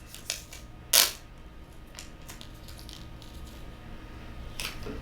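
Apple AirPods 2 charging case lid snapping shut, one sharp, close click in a quiet room, with a few fainter small clicks around it.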